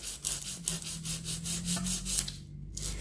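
A file rubs back and forth across acrylic nail tips in quick, even strokes, a close raspy scraping repeated about a dozen times with a brief pause near the end.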